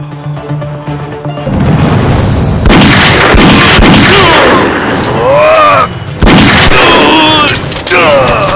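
Gunfire in a Hindi-dubbed action movie scene: loud, sharp shots bursting repeatedly over dense dramatic sound, with brief pauses, strained voices crying out between blasts.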